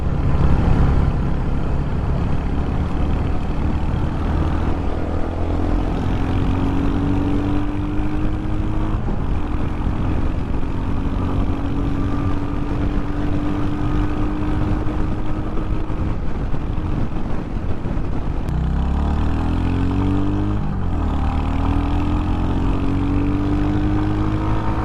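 A Royal Enfield Hunter 350 motorcycle is ridden through scenic Uttarakhand hills, its engine droning steadily and loudly with wind rush, rising and falling in pitch through gear changes.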